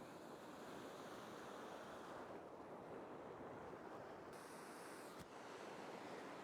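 Waves wash over rocks on a rocky shore at Indian Head as the tide comes in, a faint, continuous surf hiss with light wind noise across the microphone.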